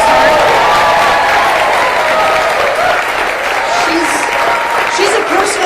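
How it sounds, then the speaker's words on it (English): A crowd at a Pennsylvania campaign event bursts into loud, continuous applause for Liz Cheney, with cheers and scattered voices mixed into the steady clapping throughout. "I think we could give her a round of applause right now just to start."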